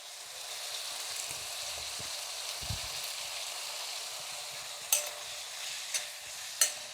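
Liver sautéing in a pan with curry leaves, a steady close sizzle and frying hiss with a few sharp pops and spatters near the end; no talking.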